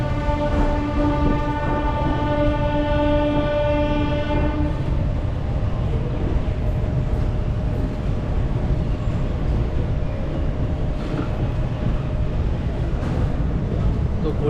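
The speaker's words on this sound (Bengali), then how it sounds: "এই এখন আদ্রা স্টেশন এখন ডিপার্ট করছে।" The 18014 Bokaro–Howrah Express pulls out of Adra station. A long, loud horn blast sounds for several seconds, then a steady, heavy rumble of the rolling train continues without a break.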